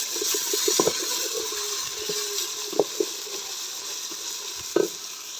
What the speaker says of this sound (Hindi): लहसुन, अदरक और सब्ज़ मिर्ची का पेस्ट जो है वो फ्राई हो चुका है